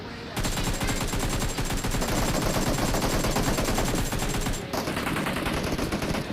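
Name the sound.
AKM gunfire in a battle royale video game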